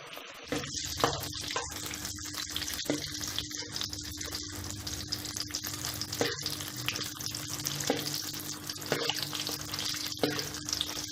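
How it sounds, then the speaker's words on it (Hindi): Potato rolls fry in hot ghee with a steady, close sizzle and crackle that runs throughout, broken by occasional clinks and stirring knocks from a utensil. "अब घी हमारा गर्म हो चुका है, एक एक करके हम तमाम जो है रोल इसके अंदर डाल देंगे।"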